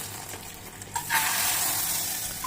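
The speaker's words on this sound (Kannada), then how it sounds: "ಸಾರಲ್ಲಿ ಹಾಕಿ ಇವಾಗ ಮಿಕ್ಸ್ ಮಾಡ್ಕೊಳ್ಳೋಣ" Curry-leaf tempering being stirred into rasam in a pan, a steady bright sizzle that swells as the hot oil hits the liquid, with a couple of light utensil scrapes, close and alone.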